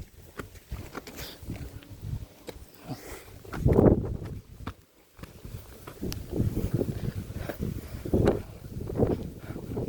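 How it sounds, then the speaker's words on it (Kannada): Strong wind gusting across the microphone outdoors, rumbling in uneven surges that swell and fade, with a brief lull midway. "ಗಾಳಿ ಮಾತ್ರ ಮಸ್ತ್ ಬಿಟ್ಟೈತೆ"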